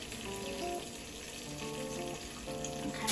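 Food fries in a pan with a soft, continuous sizzle and crackle at low volume, steady throughout without any voices.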